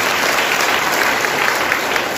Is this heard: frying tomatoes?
no